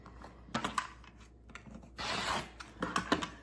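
Scissors cut through t-shirt fabric near the armhole, giving short, dry snipping and rasping bursts in an irregular rhythm, close and fairly quiet, with no talking.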